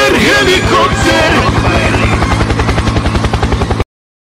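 A loud helicopter sound effect with rapid rhythmic rotor chopping that grows steadier, then cuts off abruptly.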